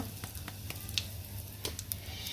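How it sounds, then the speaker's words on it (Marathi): Steady crackling sizzle of spices, curry leaves and asafoetida frying in hot oil for tempering, with a few sharper pops and spits throughout. "हे सगळं मी आता फोडणीत घातलं आहे"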